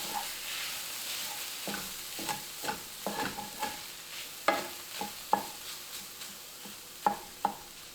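Plant-based scramble with a splash of soy milk stirred in a pan: soft, low sizzling under a series of distinct spoon scrapes and taps, growing sharper and more frequent toward the end, close up and quiet, no voices.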